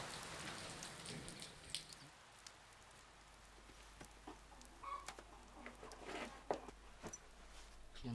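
Steady rain falls on a cliffside worksite during a wet spell, a faint hiss with scattered drips and patters close by, no talking.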